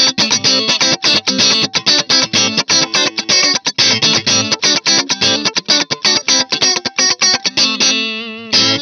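Distorted electric guitar chords strummed in a steady driving rhythm through a TC Electronic AMPWORX pedal, loud and dense, with a spring reverb tail ringing out as the playing stops.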